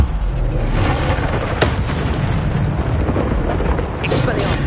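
A fire spell cast in the Hogwarts Legacy video game gives a dense, continuous roaring whoosh with a sharp burst near the start and another flare toward the end, loud throughout with game music and effects layered underneath.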